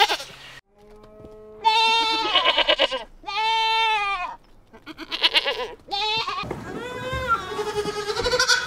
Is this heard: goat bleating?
yes